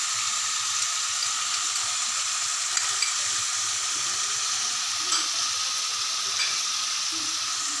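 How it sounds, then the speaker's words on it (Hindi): Ginger, garlic and onion fry in a pan with spices added, producing a continuous, even hiss of sizzling oil at moderate loudness, with a few faint taps; no one talks. "अदरक और लहसुन और प्याज काफ़ी भून सी गई है।"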